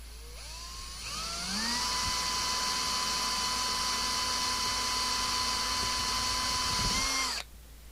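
A small cordless drill bores through a broken front panel lug on a CB radio, spinning up with a rising whine, then holding a steady, loud high-pitched drone for about six seconds before cutting off abruptly.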